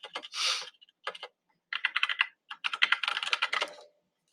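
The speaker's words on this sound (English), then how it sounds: "if I just type in adaptations" Typing on a computer keyboard, quick clustered keystrokes in several bursts separated by short pauses, close and crisp with no talk.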